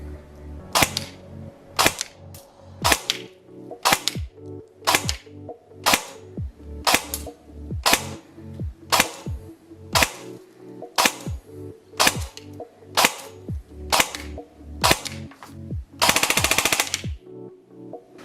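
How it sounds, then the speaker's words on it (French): An Ares/Cybergun FN SCAR-L (MK-16) airsoft AEG fires about sixteen loud single shots at a steady pace of roughly one per second, then a short full-auto burst, all close up with no talking. "On va aller au test chronie et au test de tir"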